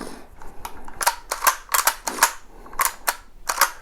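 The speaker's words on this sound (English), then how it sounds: "Take the mag out, make sure the gun is safe." A magazine being removed from a 12 gauge shotgun produces a series of sharp metallic clicks and clacks, close and distinct, in irregular clusters.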